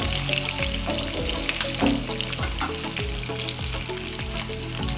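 Fish pieces fry in a small amount of oil, a dense, continuous crackling sizzle with rapid popping, close and steady throughout, with no voices.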